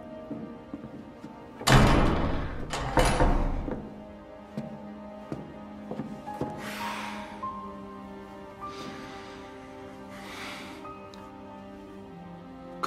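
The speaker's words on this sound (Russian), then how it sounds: "Закрой дверь." A door closes with a couple of solid thuds early on, followed by quieter movement and faint shuffling in an indoor room.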